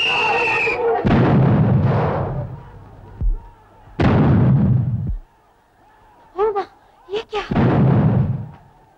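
Gunfire and a whistle from a classic Hindi film scene: loud, sharp bursts strike about three times, with short, high whistle-like blasts between them.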